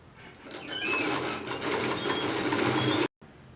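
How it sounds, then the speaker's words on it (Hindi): Sewing machine stitching a garment neckline from the inside, a steady dense mechanical whirr running close and continuous for about three seconds before stopping abruptly, then faint room noise. "इस तरह से अंदर से कपड़े को दबाते हुए हमें एक सिलाई लगानी है।"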